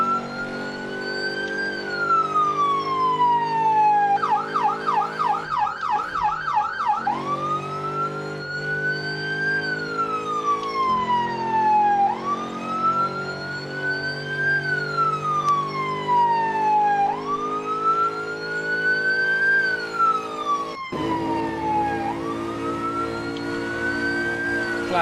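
Wailing police car siren from the Assetto Corsa driving game, loud and continuous, rising and falling in long sweeps with a brief fast yelp pattern midway, over steady engine drone.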